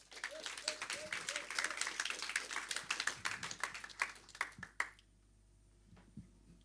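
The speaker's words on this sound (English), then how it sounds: "Let's give him a round of applause here" Audience applause at a tech conference session in Amsterdam, steady dense clapping for about five seconds, then cutting off abruptly into near silence with a couple of faint stray claps.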